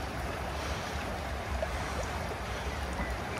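A river in Snowdonia National Park rushes past right beside a parked campervan, a loud, steady broadband wash of flowing water with no break and no voices.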